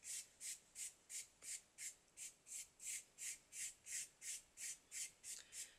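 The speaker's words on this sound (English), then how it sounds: "I'm putting the rubbing plate under my fabric" Fabric being rubbed over a textured rubbing plate beneath it, a close, evenly paced series of about fifteen soft scratchy strokes repeating back and forth, with nothing else heard.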